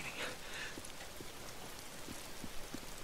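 Steady rain hissing across the whole clip in the video game Days Gone, with a few soft drip-like taps standing out, no voices.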